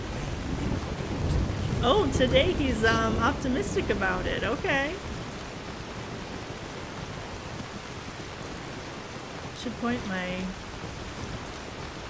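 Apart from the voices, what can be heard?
rain and thunder in the video game Skyrim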